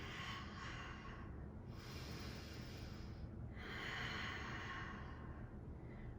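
Slow, steady breathing of a yoga instructor during an all-levels session, long airy inhales and exhales swelling and fading in a continuous rhythm, close and soft, with no talking.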